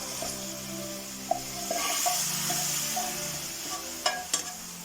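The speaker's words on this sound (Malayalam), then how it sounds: "ഇതിലേക്ക് നമുക്ക് വറുത്തിടാം." Hot coconut-oil tempering is poured over pulinji, a tamarind dish for Onam, and bursts into a close, continuous sizzle, with a few clinks and scrapes near the end.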